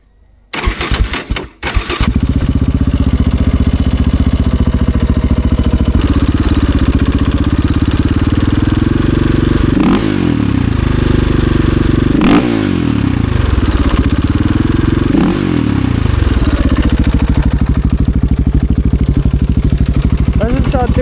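KTM 690 Enduro motorcycle engine starting and then idling loudly and close, with several quick throttle blips rising and falling over the steady running.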